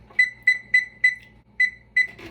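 A kitchen oven timer beeps six times in a steady, even rhythm with one short gap before the last pair, each tone a clear, close electronic chirp over a quiet room with faint rustling at the end.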